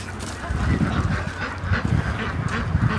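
A flock of ducks and geese on a farm quack and honk continuously, overlapping and fairly close, with a low steady din underneath.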